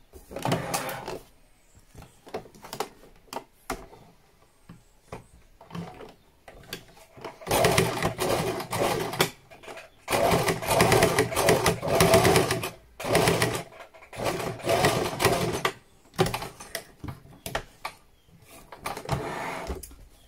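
A sewing machine stitches a seam on fabric for a pouch, running in short and long whirring bursts separated by pauses, close and clear with no talking.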